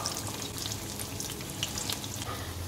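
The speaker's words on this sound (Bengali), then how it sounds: "তো আমাদের বড়া ভাজা চলছে এখন, আপাতত কড়াইতে রয়েছে পাঁচটা" Ash gourd fritters deep fry in a wok on a gentle flame, a soft continuous bubbling crackle with small pops and no voices.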